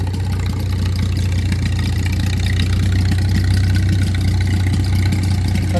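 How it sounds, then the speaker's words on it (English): A small John Deere hit-and-miss tabletop engine runs steadily close by, a continuous low chugging drone with a fast even pulse and no pauses or speech. "We'll get the little tabletop John Deere running."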